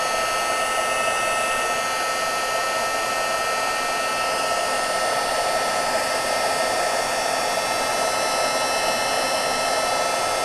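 A heat embossing tool blows hot air onto ribbon in a steady, unbroken roar like a hair dryer, close and continuous with no talking.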